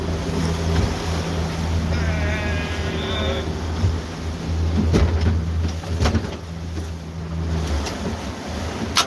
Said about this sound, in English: Kill the engine so we're not scaring the fish off.